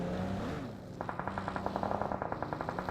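Rapid automatic gunfire in a shooter video game rattles in a fast, even burst after a brief lower rumble, repeated shots close and sharp.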